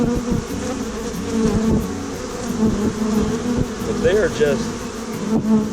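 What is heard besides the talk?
honeybees swarming to the hive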